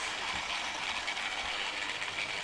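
Bachmann LNER B1 model locomotive in weathered BR black running steadily on track, a continuous soft whirring motor hum with faint rail clicks, fairly quiet and with no talking.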